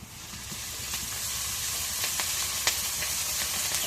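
Chopped onion, green chili and dried fish sizzling in oil in a wok, a steady close hiss with faint crackles and occasional spatula scrapes, rising slightly in loudness.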